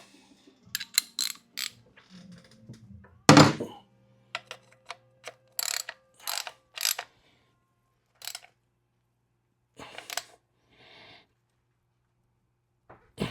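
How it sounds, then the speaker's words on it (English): A ratchet turns in short bursts of clicking as a drain plug is tightened back into a 2024 Harley-Davidson CVO Street Glide 121, close up with brief pauses between strokes and no talking. "I'm going to put the drain plug back in it. Tighten that down."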